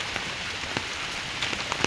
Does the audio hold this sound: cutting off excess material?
no